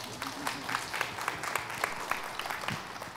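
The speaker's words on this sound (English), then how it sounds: "Can you give yourself a round of applause?" An audience at a partner convening gives itself a round of applause, a dense wash of many hands clapping at a steady level for a few seconds, with scattered louder claps poking through.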